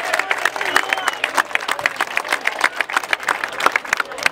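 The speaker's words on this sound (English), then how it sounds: "Red Robin Burgers, give them a big round of applause." Festival crowd at a professional hamburger eating championship gives a round of applause, with lively, uneven clapping and scattered cheers rising and falling close by.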